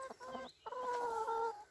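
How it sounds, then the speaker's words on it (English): Young hens in a backyard coop cluck softly nearby, a couple of short clucks followed by a longer drawn-out call, quiet and without voices. "The chickens are all settled in now, having a good time."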